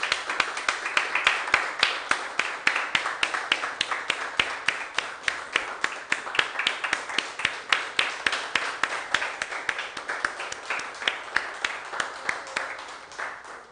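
Church congregation applauding to glorify God, a long run of sharp, fairly rhythmic claps that are close and moderately loud, tapering slightly near the end.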